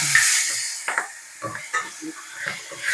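Green chili paste hitting a hot pan gives a soft, steady hiss with a few brief stirring scrapes and clinks, close by, with no talking.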